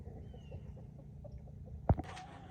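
Quiet, low clucking from a few chickens, then a sudden sharp knock near the end.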